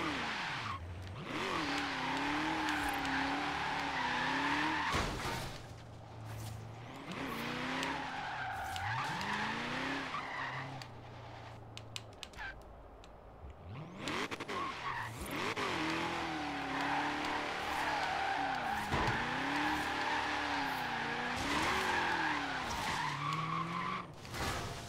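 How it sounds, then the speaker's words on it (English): A 1932 Ford drifts in Forza Horizon 3, its engine revving up and down in swooping waves while the tires squeal loudly through repeated slides, nearly continuous over the whole stretch. "We kind of get a good drift going every once in a while."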